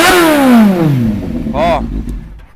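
A motorcycle engine with an aftermarket exhaust revs up loudly then falls away, followed by a short, sharp throttle blip with a raspy exhaust note.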